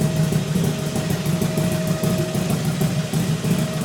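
A 2004 Buell Firebolt XB12R motorcycle with a weak battery idles steadily, its low engine rumble loud, close and continuous with no talk over it.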